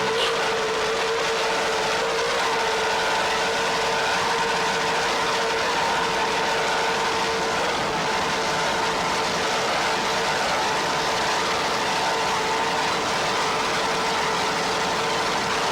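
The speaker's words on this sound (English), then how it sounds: "Let's listen to those Fever marine engines." Marine engines of the Fever 28-foot Manta race boat in a 1994 Key West world championship powerboat race drone loudly and steadily throughout, with no talk.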